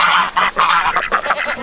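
Geese on a farm honk repeatedly in loud, close, overlapping calls that come in quick bursts with no pauses, with no talking.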